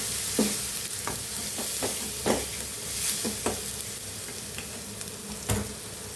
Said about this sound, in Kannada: ಇದನ್ನ ಇವಾಗ ಫ್ರೈ ಮಾಡ್ಕೊಳ್ಳಿ.